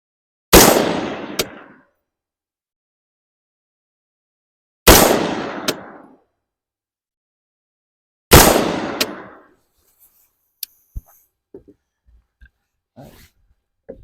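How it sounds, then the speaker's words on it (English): Three loud, separate shots from a Palmetto State Armory PA15 16-inch 5.56 rifle at an outdoor range, spaced several seconds apart with short echoing decays, followed by faint clicks and handling noises. "Go ahead and shoot 5 more anyway, and see where we're getting."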